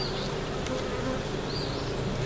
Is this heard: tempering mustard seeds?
no